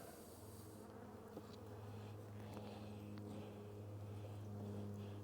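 Honeybees drone steadily at an open Kentucky hive during spring box reversing, a continuous close buzz with a low hum, a few light clicks and handling sounds over the top.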